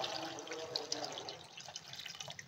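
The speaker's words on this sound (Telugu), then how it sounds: "ఎన్ని వాటర్ కావాలో అన్ని వాటర్ పోసేసుకోవాలి" Cold water pours into jaggery for panakam, a steady splashing trickle with faint drips running under the whole stretch at low, close level.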